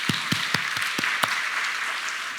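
A church congregation claps in a few sharp, spaced beats at a Wednesday Bible study, faint and reverberant over a steady hiss, fading out after about a second.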